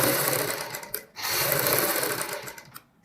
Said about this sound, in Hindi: इस प्रकार, जैसे मैं सिलाई लगा रहा हूं।